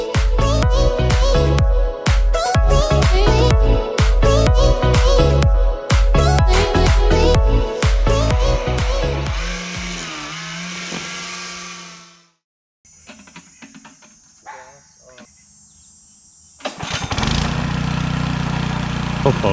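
A lawn mower engine runs steadily with a rhythmic chugging pulse during a fall lawn renovation, then winds down and cuts out, falls nearly silent, and sputters back to life in short bursts before running again.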